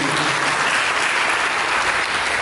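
A church congregation breaks into applause during a sermon, a thick, even wash of many hands clapping that holds at a steady level from start to finish.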